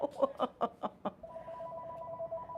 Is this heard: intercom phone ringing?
yes